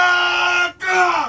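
Panicked crowd of villagers screaming for The Hobbit, a loud, close wall of high, wailing cries in two sustained bursts split by a brief gap.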